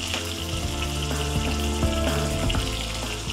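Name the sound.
fenugreek and cumin seeds spluttering in hot oil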